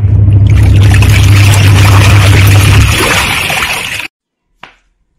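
A washing machine churns clothes and sweaters in plenty of water, giving a loud steady swishing drum rumble with sloshing that cuts off abruptly, followed by a short clunk.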